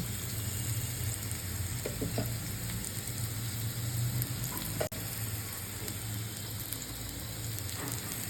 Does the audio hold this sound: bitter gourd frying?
yes